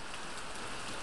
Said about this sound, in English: Pouring down rain